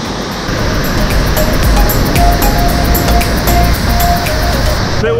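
Roar of Iguazu Falls in Argentina, a loud, steady, broadband rush of falling water filling the whole clip at close range, with faint voices in the background.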